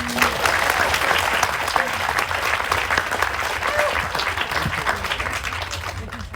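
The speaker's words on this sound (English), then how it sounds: "let's have his applause first" Audience applause at the Greenbelt festival, a loud, continuous crowd clapping sustained across the whole stretch, with faint speech underneath.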